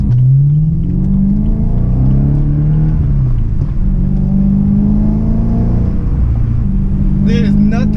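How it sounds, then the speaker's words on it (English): A BMW V8 car engine rumbles and revs up and down in deep throaty swells, loud and close, with a few higher sounds near the end. "There is nothing like the sound of this V8."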